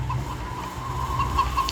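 Chickens cluck in short repeated bursts close by, loud and steady over a low background hum.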